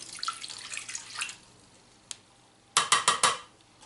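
Water poured into a cooking pan holding butter, in a Compact Cook Elite multicooker, heard as a short splashing pour after some faint dripping and clinking, close and fairly loud.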